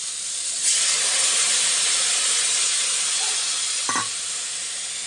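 Tomatoes cook in a pan on a home stove, giving a steady broadband sizzle and hiss with a brief scrape from stirring near the end.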